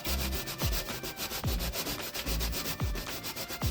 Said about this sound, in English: So I'm going to grate.